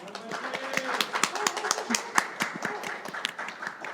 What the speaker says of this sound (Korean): 큰 박수로 맞이해 주시길 바랍니다